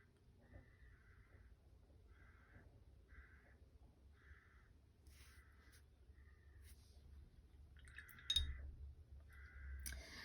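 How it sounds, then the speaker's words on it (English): A crow caws repeatedly in short, evenly spaced calls, faint and somewhat distant, with a few louder caws near the end. "got that noisy crow back again"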